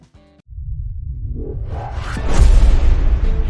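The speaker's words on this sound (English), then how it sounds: "That sound is the explosion of a supersonic wave." Sonic boom of an asteroid plunging into Earth's atmosphere, starting with a short tonal blip, then a deep rumbling roar that builds and peaks loudly toward the end, alone and without talk.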